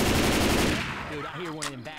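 Gunfire and explosions from the zombie shooter game Left 4 Dead: a loud, dense burst of rapid shots and blasts fades into scattered fire, with a person talking over the tail end.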